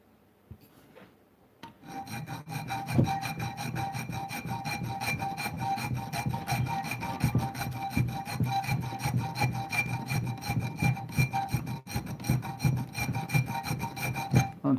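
A homemade blacksmith-forged steel knife being sharpened with a file, shedding metal shavings: steady, close rasping strokes that start after a brief quiet opening and continue in a rapid, even rhythm throughout.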